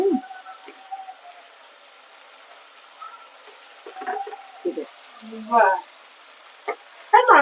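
Fried potatoes tipped into a chicken curry sizzle in oil, with short scraping and stirring bursts near the end, and a person talks quietly throughout.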